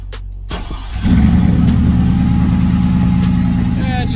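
A car engine cranks briefly and catches, then settles into a loud, steady idle close by. No distinct transmission whine stands out.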